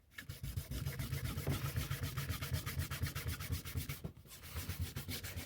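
Hand wet sanding a clear coat finish between coats, a close, steady rhythmic rasp of back-and-forth strokes with a short pause before the scrubbing resumes, no voices.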